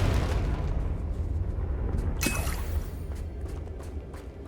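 Confringo blasting spell in Hogwarts Legacy, a loud explosive burst with a sharp crackling flash midway, set against a steady rumbling game backdrop with no talking.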